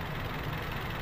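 A Toyota Vios 1.3 E 2016 engine idles steadily with flushing oil added before an oil change, a continuous low rumble with faint knocking texture, close and even throughout with no talk.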